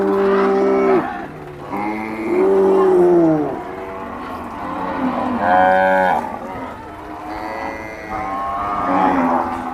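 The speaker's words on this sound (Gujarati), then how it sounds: "બેસીએ ચારો તરફ ગાયોનો જ અવાજ" Several cows in a cow shelter pen moo repeatedly, loud and close, with long overlapping calls rising and falling across the whole stretch.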